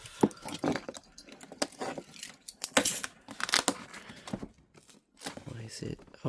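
The cardboard box of an HP Victus gaming laptop being cut and pulled open, with bursty tearing, crinkling and scraping close up in irregular bursts, and a voice talking intermittently between them.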